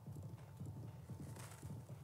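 Rhythmic clip-clop of horse hooves trotting at a steady pace in a video game, soft and somewhat distant, with no voices.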